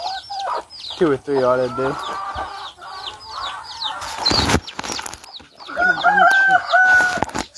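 Chicks and chickens cluck and squawk close by inside an enclosure in short bursts, with a crow-like call and some wing flapping, while someone talks over them.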